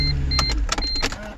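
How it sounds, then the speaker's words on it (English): Engine of a 2005 Mercedes C240 idling up close just after starting, a steady low hum broken by a series of sharp clicks and taps, with faint electronic beeps. "Car turns on."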